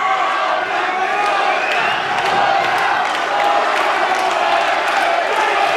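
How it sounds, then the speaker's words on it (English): A boxing arena crowd on its feet in the final round of a fight, a dense roar of cheering and shouting that holds steady and loud throughout. "The crowd is on their feet."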